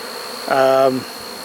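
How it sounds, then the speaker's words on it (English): A brief, loud burst of honey bees swarming out of a hive, a dense droning hum swelling for about half a second before fading back into a quieter background. "The bees cannot get out of this hive fast enough"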